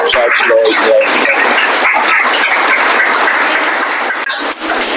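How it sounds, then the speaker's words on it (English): Round of applause for two special guest speakers at a club gathering, steady dense clapping from a crowd throughout, with some voices mixed in at the start. "another round of applause for our special guest today, Mr. Patrick Prudhomme and Judge Lloyd."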